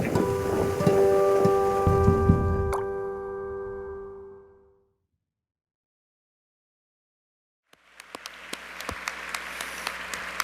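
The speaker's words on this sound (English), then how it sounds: "but it started to rain" Torrential rain pours down after dark in Mozambique, East Africa. Tonal sounds fade into several seconds of near silence, then a dense, crackling hiss of rain returns, full of sharp drips and splashes.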